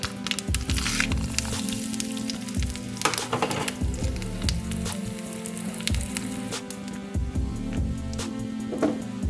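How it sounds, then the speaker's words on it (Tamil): Mustard seeds spluttering in hot oil, many quick crackling pops scattered over a low sizzling bed, with a few louder bursts and a steady low hum underneath. "கடுகு இப்போ நல்லா பொரியுது."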